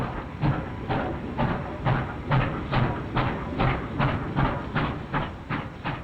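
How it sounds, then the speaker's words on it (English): Steady rhythmic clickety-clack of a steam locomotive-hauled train rolling along rails, a repeating beat of wheels over track joints over a continuous rumbling roar. "The steam locomotive leaves the train."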